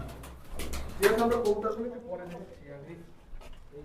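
Domestic pigeons cooing inside a large pigeon loft in Khulna, Bangladesh, with a few nearby coos rising over a busy background while someone talks.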